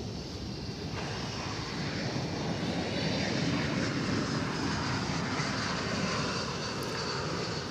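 A Boeing 777 bound for London Heathrow at DFW Airport roars with continuous jet engine noise, a broad steady rumble that builds slightly and holds loud at moderate distance, with no voices.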